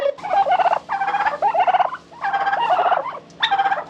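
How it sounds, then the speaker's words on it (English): Turkeys gobble in four loud, close bursts of rapid warbling calls separated by short pauses, with no other sounds. "Oh, the turkeys. I try and talk to them. Sometimes they talk back."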